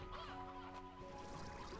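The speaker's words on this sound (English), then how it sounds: "Ooh, too many chickens." Chickens in Slime Rancher 2 give a few quiet, short clucks and squawks in-game over soft background music, with no talk.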